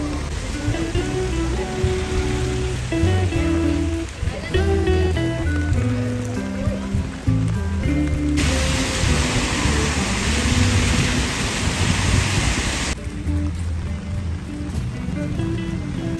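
Steady rain falls in Paris, a dense hiss of drops on surfaces that holds throughout with a brief louder, brighter stretch near the middle, while low rumbling city sounds continue underneath and no one speaks.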